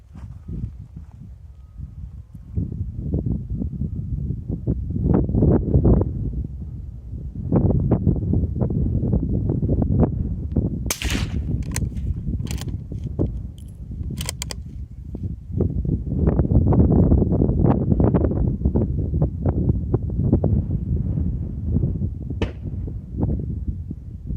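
Gusty wind buffets the microphone at an outdoor rifle range, a loud low rumble that swells and eases throughout, with a few faint clicks and knocks in the middle.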